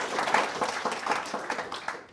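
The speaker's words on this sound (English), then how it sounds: "Give him a massive round of applause." A lecture audience at a particle accelerator talk breaks into sustained applause, a dense steady wash of many hands clapping that fills the whole stretch before fading slightly at the end.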